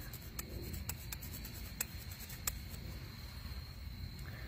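Pen or marker strokes on a wooden fire board being prepared for carving, soft scratchy rubbing with a few sharp ticks, steady and close, alone with no talk.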